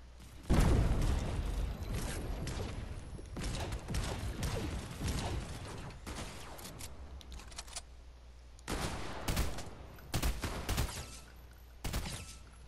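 Rapid bursts of video game gunfire fired from the hip, loud and close, with clustered volleys and short pauses, a few mechanical clicks between them.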